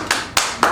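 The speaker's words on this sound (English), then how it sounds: "You can applaud whenever you want." A few scattered claps from an audience at an author panel, three separate sharp hand claps spaced out over under a second, fairly close and without talk.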